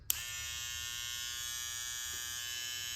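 A TPOB Candy Mini Skull electric foil shaver switches on with a click and runs in a steady, even high buzz for three seconds, fairly quiet and close, no talking.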